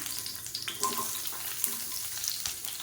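Sliced large onion frying in hot oil in a kadai gives a steady, close sizzle with a few soft stirring scrapes and small pops, and no one speaks.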